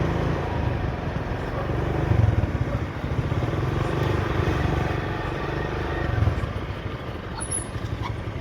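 An Activa scooter engine idling and running close by, a steady low drone with a couple of slight swells, no talk over it.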